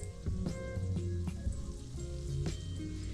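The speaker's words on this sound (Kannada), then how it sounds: "ನಟ್ಸು ರೋಸ್ಟ್ ಆಯಿತು ಆಲ್ಮೋಸ್ಟ್ ರೋಸ್ಟ್ ಆಗಿದೆ ತುಪ್ಪದಲ್ಲಿ ತೇಲಾಡ್ತಾ ಇದೆ" Nuts roasting in ghee for dry fruit laddus, a close, steady sizzle with intermittent soft crackles and stirring clatter.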